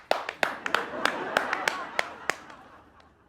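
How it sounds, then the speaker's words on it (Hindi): Scattered hand claps from an audience during a Hindi stage comedy show, about a dozen sharp claps at irregular intervals over a steady murmur of voices, brief and moderately loud. "वाह, तालियां।"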